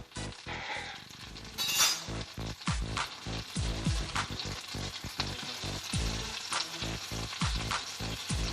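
A keto egg loaf fries in a pan, giving a steady close sizzle with scattered clinks and scrapes of utensils against the pan throughout, and no voices.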